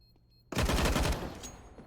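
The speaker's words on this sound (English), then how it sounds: "They usually will come with a quick frag on the part of Mirbit, taking out Cyclone." Gunfire from Counter-Strike on the Mirage map, a sudden loud burst of rapid shots that starts mid-clip and fades into a ringing tail, with no talk over it.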